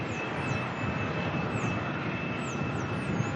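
A Boeing 747 firing up its engines at Melbourne airport: a steady, loud broadband jet roar with a thin high whine, continuous and unbroken.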